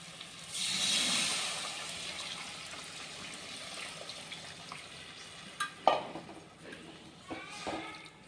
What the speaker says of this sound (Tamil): இப்போ நம்ம புளி தண்ணியை சேர்த்துக்கிறோம்.